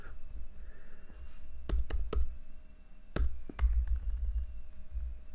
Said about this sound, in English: Okay, now I will start writing the code.